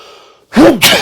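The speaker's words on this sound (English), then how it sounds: "I'm gonna sneeze again." A single close, sharp human sneeze bursts out after a quiet intake of breath, loud and abrupt with a short second burst at the end.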